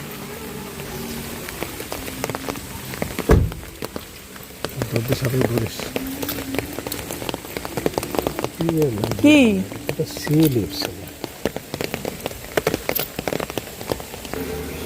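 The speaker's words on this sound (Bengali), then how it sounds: "এই যে দেখেন অনেক বৃষ্টি হচ্ছে আমাদের এখানে।" Heavy rain pours steadily onto surfaces in a Bangladeshi village, a dense continuous patter with scattered louder drops, while people talk intermittently nearby over it.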